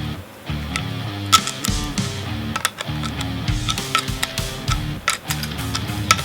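Bolt being screwed into a longboard skateboard wheel with a spacer, close rhythmic ratcheting ticks and clicks coming in bursts.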